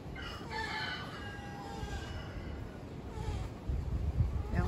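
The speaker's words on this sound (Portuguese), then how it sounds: "Aí tem um passarinho aqui" A small bird sings a few thin, bright phrases over a constant outdoor background hiss in a backyard in the Amazon, near the Rio Negro.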